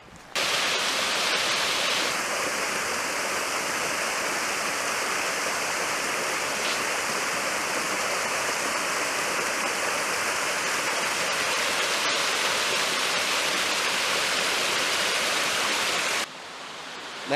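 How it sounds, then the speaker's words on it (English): A small roadside waterfall at Shepard Springs in the Ozarks roars as a loud, constant rush of falling water heard close up, alone and unbroken for the whole stretch. "I just stopped here on the cutoff road to show you a little waterfall."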